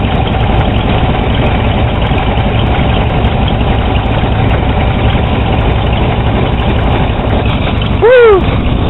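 A 1982 Chevy truck engine idles steadily and close by, with an even broadband rumble that holds for the whole stretch and a brief rising squeal near the end.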